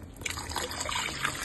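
About a cup of water is poured into a pot of dark tea with ice, giving a brief trickling, splashing sound that runs steadily at close range.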